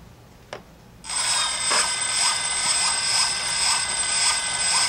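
A DJI Phantom drone fitted with a Feiyu gimbal, its motors spun up with the top cover off so parts rub: a sharp click, then a loud, steady high mechanical whir and grinding hum close by.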